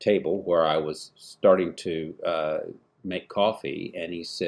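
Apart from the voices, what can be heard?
No distinct noise like a dog, phone or traffic.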